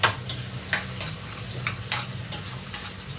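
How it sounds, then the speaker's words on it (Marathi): Sliced onions fry in very hot oil in a home kitchen, a constant crackling sizzle punctuated by regular spatula scrapes against the pan, close and without voices. "तेल मस्त कडकडीत गरम झालेलं आहे बघा. कांदा गेला तेलात. पटापट पटापट फ्राय करूया आपण त्याला."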